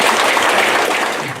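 Audience clapping at a memorial stone unveiling ceremony for the house site of patriot Yi Jun, a dense, steady wash of many hands held at an even level throughout.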